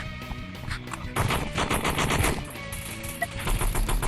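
Rapid submachine gun fire in the online shooter Animal Rivals, loud bursts of dense automatic shots carrying on through most of the clip over game background sounds.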